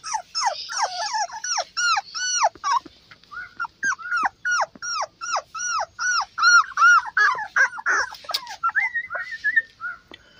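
Beagle puppies about 22 days old whimper and yelp in rapid, repeated high-pitched cries while playing, with close, steady calls through the whole stretch and no talking.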